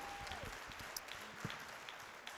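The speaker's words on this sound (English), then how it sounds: "Give yourselves a round of applause for being here." Applause from the crowd at an awards ceremony, a soft, distant wash of clapping with a few sharper individual claps standing out, heard alone with no talking.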